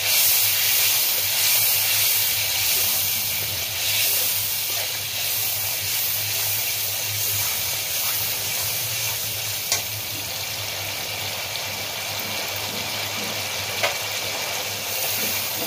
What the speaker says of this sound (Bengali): এরপরে আমি সর্ষে বাটা দিচ্ছি।